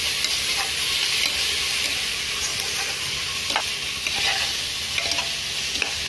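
Five green chillies fry in a pan while making vegetable paneer dum biryani, producing a continuous loud sizzle with scattered crackles and stirring clinks throughout, without speech.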